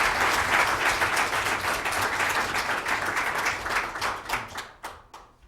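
An audience applauds to welcome a speaker at a talk on disability and health reform, a steady crowd of clapping hands that thins out and fades to scattered claps at the end.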